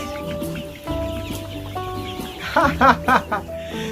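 Chickens clucking and chattering up close while eating on a farm, steady low murmuring with a burst of louder squawky clucks toward the end.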